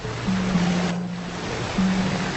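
A waterfall rushes in a steady, fairly loud hiss of falling water, with a faint low tone drifting underneath.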